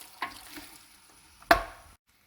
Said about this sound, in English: now I've been stirring these ribs in the paste for about 5 minutes